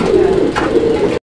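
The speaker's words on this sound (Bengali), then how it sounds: "প্রচুর পরিমাণে ডাকে। হ্যাঁ, ডাকের কবুতর।" A pair of colored Rajgolla fancy pigeons cooing nearby, a low steady throaty warble running continuously for about a second before a brief cut to silence.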